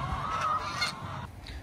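Farm poultry calling loudly and close by on a wet, cool morning, a couple of honking, raspy squawks that overlap and fade out, with no talking.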